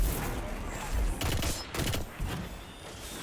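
Rapid bursts of gunfire and grenade blasts from the video game Destiny during a Grand Master Nightfall, dense and chaotic, loud and continuous with clustered impacts.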